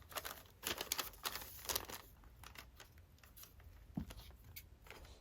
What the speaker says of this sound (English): And we'll just cut this one as well, if I can get my scissors in there.